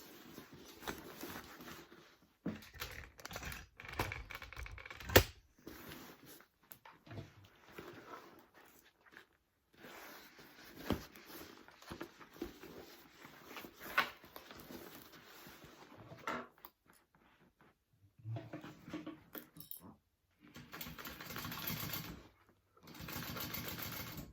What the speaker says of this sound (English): I will sew that together at a 3/8 inch seam allowance